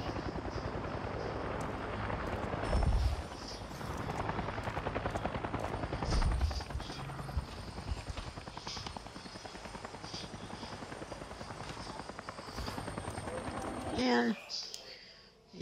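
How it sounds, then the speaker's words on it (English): Helicopter in the video game Avatar: Frontiers of Pandora, a steady loud rotor chop with whirring engine throughout, with a player talking over it and a brief sweeping effect near the end. "Whoa, helicopter."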